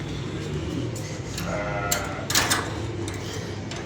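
A male goat bleats in repeated, drawn-out calls, the loudest cluster near the middle, heard at moderate distance over steady outdoor background noise, with no voices.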